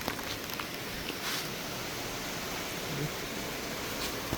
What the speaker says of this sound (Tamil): செம்ம மழை வந்து பெய்ய ஆரம்பிச்சிருக்குது